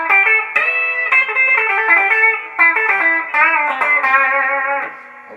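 An electric guitar plays a melodic lead line through its lead pickup with a tone mod engaged, loud and close, bright sustained notes with a slightly effected character and no voices.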